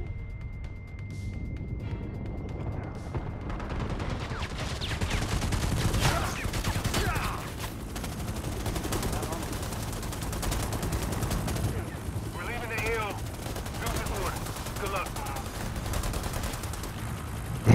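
Sustained bursts of gunfire from shooting AI bots in a jungle-set video game, dense automatic fire crackling throughout, fairly loud, with occasional voices underneath.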